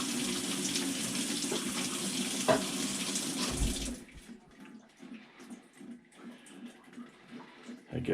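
Water gushes steadily into a washing machine as it fills, loud and continuous for about four seconds, then cuts off, leaving quieter irregular trickling and gurgling.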